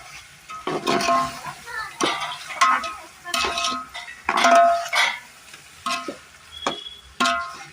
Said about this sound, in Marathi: त्यामध्ये आपण वाटलेलं वाटण टाकू आणि मग ते हलवून घेऊ